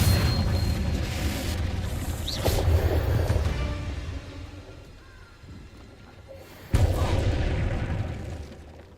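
Heavy booming blasts from the Confringo fire spell in Hogwarts Legacy, one explosion early on and another sharp loud blast near the end, with rumbling debris between.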